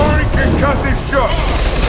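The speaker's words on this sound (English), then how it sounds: "Firing concussive shot!" Loud, dense volley of weapon fire and concussive blasts from Mass Effect 2 combat, with rapid overlapping bangs and booms continuing without pause.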